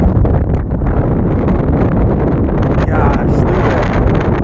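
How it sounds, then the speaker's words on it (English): Strong wind buffets the microphone outdoors at a coastal bird point in a loud, constant roar with gusty rumble and rustling throughout, no clear speech over it. "Gosh, it's windy out here."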